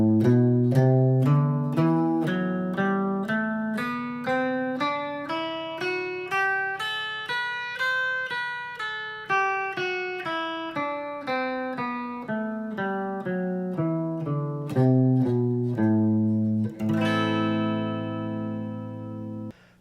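An electric guitar runs a quick Dorian-mode lick, a steady stream of picked single notes climbing and descending in even rhythm, ending on a sustained, slightly distorted ringing note, close and clear with no talking.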